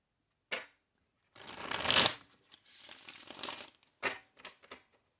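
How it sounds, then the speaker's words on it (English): Tarot cards are shuffled close up: a brief riffle, two longer papery shuffling runs, then a few soft taps as the deck is squared. "I'm going to do one more shuffle for you guys"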